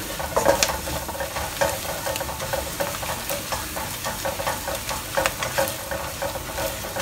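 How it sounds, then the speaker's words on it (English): Ingredients for Singapore Chinese-style butter chicken sizzle steadily in a pan while being stirred, a close, even frying hiss with intermittent scraping and clinking from the stirring utensil. "Fry until you can smell the fragrance that's coming out from here."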